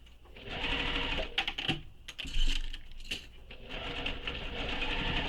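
Machine stitching on a leather wallet, a fast continuous mechanical whir of needle strokes running steadily with a brief pause and irregular bursts near the middle, fairly close and alone without talk.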